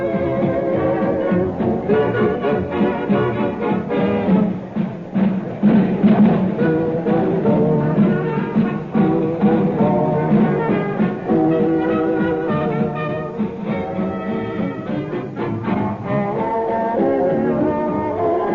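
Busy wartime kitchen at London's Savoy hotel during meal service, a dense continuous clatter of crockery, utensils and bustling voices that holds steady throughout at moderate loudness.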